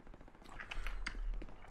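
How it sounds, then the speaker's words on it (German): Distant gunfire in the video game Hell Let Loose, with several faint sharp cracks scattered over low rumbling battlefield ambience. "Also von wo kam der Schuss?"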